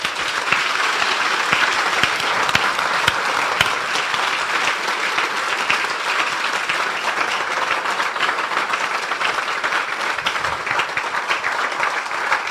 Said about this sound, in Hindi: आइए हम अपने प्रभु के लिए एक अच्छी ताली बजाएंगे।